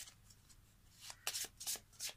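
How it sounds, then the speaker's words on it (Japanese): Playing cards shuffled by hand at a table during a card trick, a run of short papery riffles and rustles, close and fairly quiet, with brief louder bursts toward the end. "さらにちょっとね、こうカードをこう混ぜていきます。"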